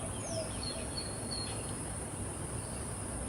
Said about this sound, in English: Got wild birds here and stuff.